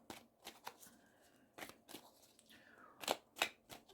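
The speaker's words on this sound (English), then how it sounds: "Shuffling the cards." Oracle and Rider-Waite tarot cards being shuffled by hand: several quick, crisp riffling bursts separated by short pauses, close and quiet.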